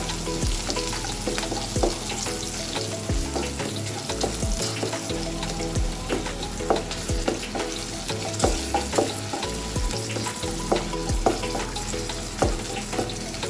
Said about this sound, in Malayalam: അതിന് ശേഷം ഇഞ്ചിയും പച്ചമുളകും കൂടി ഇടുക.